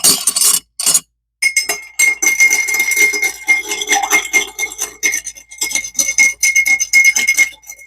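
Ice cubes stirred and clinking in a glass while mixing an old-fashioned-style whiskey cocktail with a dash of orange, a busy scraping rattle with short pauses, close and loud, with no talking.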